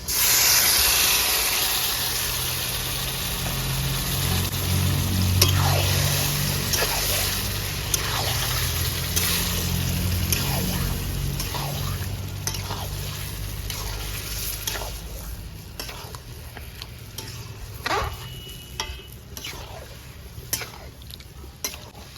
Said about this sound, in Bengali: এবারে আমি চিকেনটা ম্যারিনেট করে চিকেনটা ঢেলে দিছি